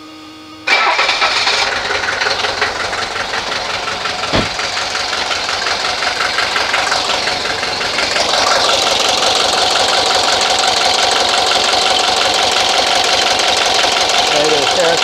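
A 1983 Mercedes 240D diesel engine with injector work underway cranks loudly and steadily after a brief quiet start, its labored mechanical churn with a single sharp knock partway through continuing unbroken to the end.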